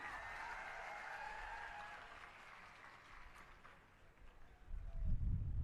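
A large crowd applauds at a political rally in Bhavnagar, Gujarat, a broad sustained wash of clapping that gradually thins before a low rumble swells at the end.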